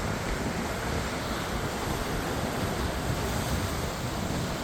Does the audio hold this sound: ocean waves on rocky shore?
yes